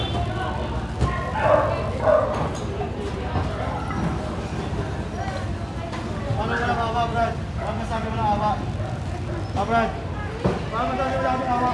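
Several leashed dogs bark and yip repeatedly during a street clearing operation in Tondo, Manila, with the barks mixed in among people talking nearby.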